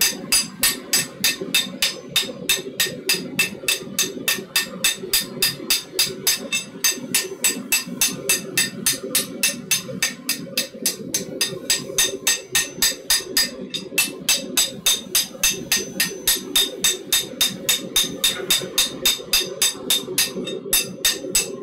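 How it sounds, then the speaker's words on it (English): Rapid, steady metallic hammer taps ring out close by in a smithy, peening metal, a continuous fast rhythm of light blows on metal with no talking. "just peening it a little bit, not really doing anything structurally to it"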